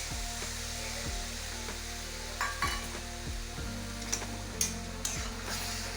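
A suji snack is stirred in a pan with hot water and chili flakes: a continuous hiss of sizzling runs beneath repeated scraping strokes of the spoon, close up, with a few sharper clinks near the end.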